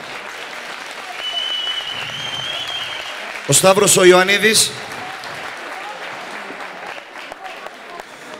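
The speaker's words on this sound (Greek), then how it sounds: "Ένα θερμό χειροκρότημα, παιδιά." Warm applause at an album presentation, a short loud burst of clapping and cheering that swells and fades within about a second, surrounded by someone speaking into a microphone over a quiet room.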